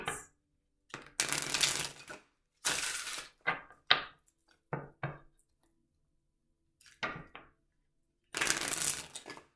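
A tarot card deck being shuffled and cut, giving bursts of loud riffling and slapping card noise separated by silent pauses, with sharp single taps in between and no voices.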